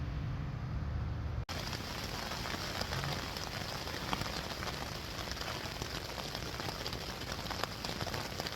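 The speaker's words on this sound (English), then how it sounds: "it's absolutely bollocking it down with rain" Heavy rain pours steadily onto a stealth camp shelter at night, a dense, continuous close patter with a sharp knock near the start and no voices.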